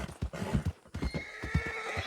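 A horse in the video game Red Dead neighs loudly, with rhythmic clip-clop hoofbeats running throughout, close and clear without talking.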